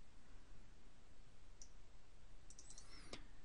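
Computer mouse clicks, a few quick faint ticks at the end of the stretch, heard alone over a low steady room hiss while a Movicon SCADA driver is configured.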